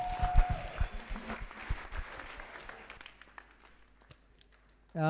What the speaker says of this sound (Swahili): Tupige Bwana makofi.